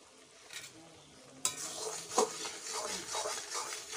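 Spice mix stirred into ridge gourd curry in a pan, with scraping spoon strokes and a metallic clink over a soft sizzle, close and moderately loud.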